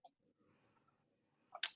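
A computer mouse gives a faint click at the start, then after a pause a quick double click, sharp and close in an otherwise quiet room.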